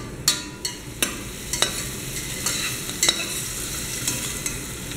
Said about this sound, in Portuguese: vamos dourar o chouriço ou salame espanhol